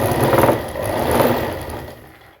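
A sewing machine stitches a pant seam with a continuous motor whir and rapid needle chatter, close and fairly loud, rising and easing in two bursts before trailing off.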